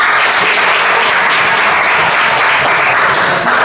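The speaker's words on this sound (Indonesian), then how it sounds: "Tepuk tangan untuk kelompok 2." Classroom applause for a student group, a dense, steady clapping from many hands filling the room for a few seconds without speech.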